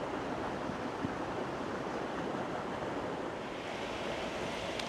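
Water flows down across a woodland path into a larger pond in a Welsh park, a steady, even rushing and splashing that continues without a break, with no voices.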